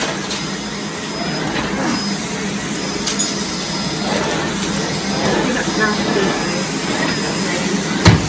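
Miele Blizzard CX1 Comfort Powerline vacuum cleaner running with its turbo brush, a steady loud whirring roar close by, with brief knocks as the brush moves and faint voices talking beneath the motor.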